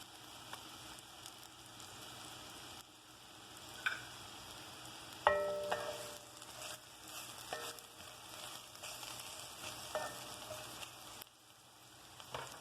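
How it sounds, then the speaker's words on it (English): Tortilla strips frying in oil in a skillet give a steady soft sizzle, with a few clinks and scrapes of stirring breaking through now and then. "You're going to fry the tortilla strips like so. Put them in your skillet with oil."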